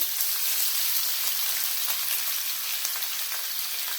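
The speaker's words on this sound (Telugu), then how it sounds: "తర్వాత ఉల్లిపాయలు వేస్తున్నానండి." Onions tossed into hot oil with curry leaves in a pan give off a steady, close, even sizzle and crackle that continues without a break, with no voices.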